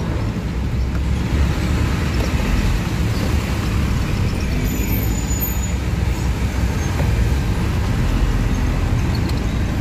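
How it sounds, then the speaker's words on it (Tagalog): Heavy road traffic in a city heading toward Fort Bonifacio, a steady dense rumble of cars, buses and trucks filling the whole stretch at close range with no clear pauses. "Yan mga guys, ang tindi ng traffic."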